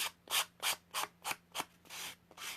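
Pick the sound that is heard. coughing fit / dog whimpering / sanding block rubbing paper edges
sanding block rubbing paper edges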